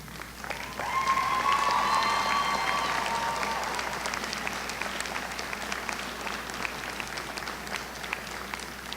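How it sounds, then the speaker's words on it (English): Graduates at a commencement ceremony clap loudly for family and friends in the audience, a broad roaring round of applause with a whistle cutting through early, holding steady for several seconds before easing slightly. "give a loud and rowdy round of applause to all of their loved ones in the"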